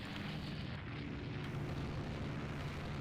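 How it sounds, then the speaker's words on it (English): A torpedo hit on a ship in the naval strategy game Rule the Waves 2 comes through as a sustained, muffled rumbling roar, fairly quiet and even, with no distinct attack. "we got something over here getting hit by a torpedo"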